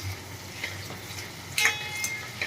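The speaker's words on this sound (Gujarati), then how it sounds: "આપણે એમાં સ્વાદ પ્રમાણે મીઠું એડ કરી દઈશું અને ચપટી હળદર એડ કરી દઈશું અને મિક્સ કરી લઈએ" Okra with salt and turmeric is stirred in a pan, a soft, low sizzle beneath a few light scraping and clinking spoon strokes, close and fairly quiet.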